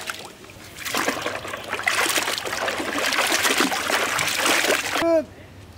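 Running water pours over goat meat being washed for a mutton leg and paya nihari curry, giving a steady close splashing stream that stops abruptly near the end.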